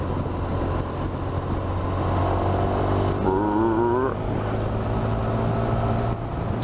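A Honda Crosstourer motorcycle cruising in sixth gear, its engine a steady low drone under heavy wind rush, with a brief rising whine midway; no talk.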